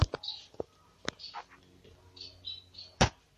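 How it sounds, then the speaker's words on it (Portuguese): Pet Manon finches in a cage give quick, thin, high chirps and tiny calls, mixed with sharp clicks and taps from the cage. The sounds come scattered and quiet, with no voices. "Vou mostrar meus Manon aqui agora. São esses daqui, ó. Eles são muito agitados."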